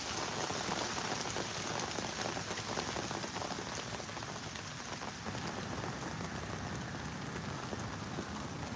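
Steady, dense rain patters continuously on a surface outdoors, a full broadband hiss with fine drop detail, loud and unbroken throughout, with no voices.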